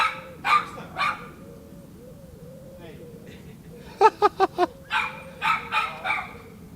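Dog barking nearby in a quick burst of four sharp barks, followed by a few more yips, with short vocal sounds earlier and a low background hum.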